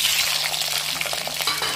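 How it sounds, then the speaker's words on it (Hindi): Cumin seeds crackle and sizzle in hot oil in a pan, a steady dense frying hiss with scattered pops and light stirring, close and fairly loud throughout. "हमारा तेल भी गर्म हो चुका है, हम इसमें अब जीरा डालेंगे"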